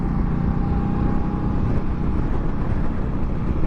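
A 2023 Indian Scout Rogue motorcycle pulls hard under acceleration, a loud, steady engine drone thick with wind rush buffeting the microphone, with no voices.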